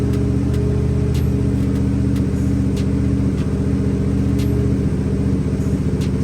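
Vehicle engine idling in gear after an ABS delete module install, a steady, loud, low rumbling drone with faint regular ticking throughout.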